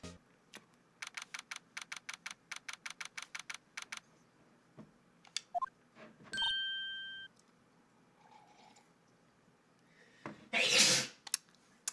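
A single loud, close sneeze bursts out near the end, after a quick run of computer keyboard typing and a few electronic beeps during a Turnabout Squid game session.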